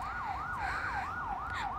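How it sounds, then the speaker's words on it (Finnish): An ambulance siren wails in a smooth rising and falling sweep, repeating several times, moderately loud and steady against a low background rumble. "Ambulanssi tulee nyt."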